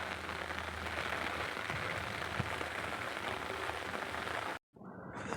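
Steady rain falls on surfaces in a Bangladeshi town, a dense close hiss that holds evenly throughout before dropping out briefly near the end.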